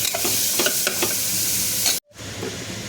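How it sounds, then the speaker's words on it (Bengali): Ingredients fry in a pan with a loud close sizzle and stirring scrapes for two seconds, then cut off abruptly and resume more softly. "ফ্রাই হওয়ার জন্য এগুলোকে আমি দিয়ে দিলাম।"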